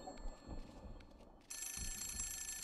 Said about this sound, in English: Where would that be coming from? Where's the phone?